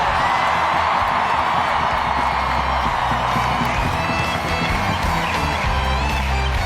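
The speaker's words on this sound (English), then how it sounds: "Keep that applause going" A packed stadium crowd at a women's soccer match between the USA and Mexico cheers and applauds loudly and without a break, a dense roar of voices and clapping with scattered whoops throughout.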